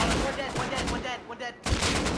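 Rapid gunfire in an online shooter game crackles in close, dense bursts, stops briefly, then resumes, with players' voices faintly mixed in.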